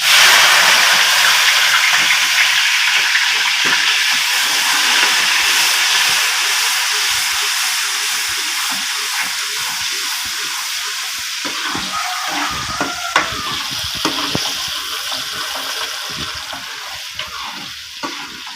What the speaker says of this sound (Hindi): इसके अंदर डाल देते हैं प्याज।